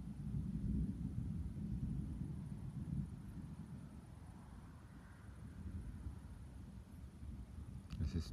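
Distant thunder from a storm about five kilometres away rolls on as a continuous low, faint rumble, with a steady wind-like hiss and no distinct sharp cracks.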